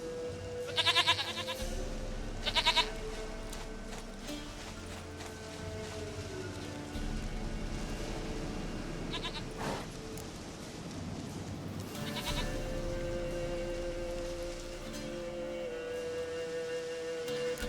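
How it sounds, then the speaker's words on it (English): Goat bleats from The Witcher 3 video game, two short bleats near the start and a fainter later call, set against a steady game ambience with low music-like drones and no talking. "Goat of mine, dearest, sweetest goat."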